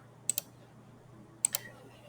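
Two quick double clicks of a computer keyboard key being pressed, sharp and close, with a short pause between them over a faint steady hum.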